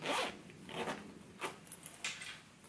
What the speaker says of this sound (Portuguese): Fechado o zíper.